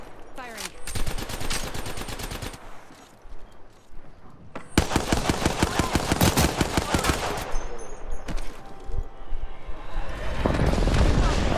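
Rapid automatic gunfire in Apex Legends, bursts of fast repeated shots separated by short pauses, loud and close, with a voice talking over it.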